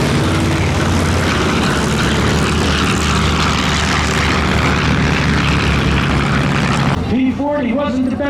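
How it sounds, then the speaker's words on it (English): A P-40 Warhawk fighter plane passes loudly at an airshow in Dover, Delaware, its propeller engine a dense roar that cuts off abruptly, followed by someone talking over the fading noise. "There she is, the P-40 Warhawk."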